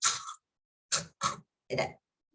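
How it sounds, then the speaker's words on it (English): Four short, harsh throat bursts separated by brief pauses, like a person coughing and gagging, close and fairly loud with no talk. "that kind of coughing and gagging"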